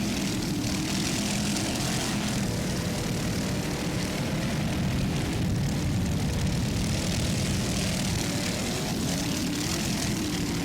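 Offshore racing powerboats, including the Super B class boats Pier 57 Fountain and Ocean Spray, run at full throttle off West Palm Beach in 1999, with a dense, unbroken engine roar that stays loud and steady throughout.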